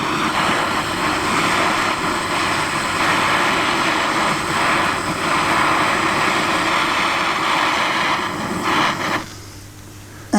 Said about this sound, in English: We light our torch